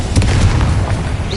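A Confringo explosion spell in the Hogwarts Legacy video game goes off as a loud, deep boom with a short rumbling burst and quick decay.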